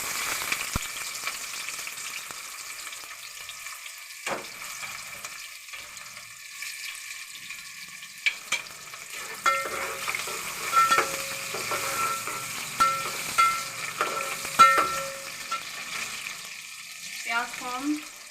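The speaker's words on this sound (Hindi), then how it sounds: "प्याज को हम ब्राउन करेंगे, हल्की सी ब्राउन करेंगे।" Onions frying in a pan after curry leaves, a soft steady sizzle with occasional stirring clinks and scrapes, fairly quiet and continuous with no talk.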